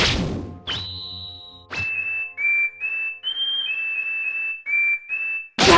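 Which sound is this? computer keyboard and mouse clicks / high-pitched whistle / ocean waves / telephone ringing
high-pitched whistle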